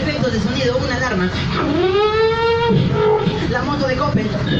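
A human voice imitates an alarm by mouth, with rising and falling siren-like tonal sweeps carried over a steady, dense backdrop of crowd or room noise.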